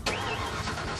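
A Factory Five racing kit car engine catches with a sharp start burst, then settles into a loud, rough mid-pitched idle that fills the short moment.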